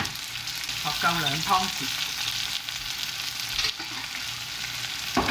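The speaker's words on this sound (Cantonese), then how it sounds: "咁我哋咧就炒一炒佢，爆香啲香料先。" Black peppercorns, dried chilies and five-spice powder sizzle steadily as they are stir-fried in a hot pan, with scraping strokes of the spatula. A voice speaks briefly near the start.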